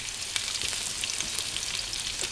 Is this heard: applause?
no